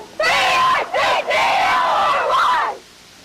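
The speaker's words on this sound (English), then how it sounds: "What's the fifth grade battle cry?" A group of fifth grade children shouts their school battle cry together in a loud, sustained cheer broken into a few bursts, trailing off at the end.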